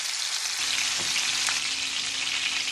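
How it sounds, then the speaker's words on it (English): Chicken searing in a hot pan gives a steady, loud broadband sizzle with a few brief crackles and pops, and no one speaks over it. "I let it fry for 5 minutes on one side."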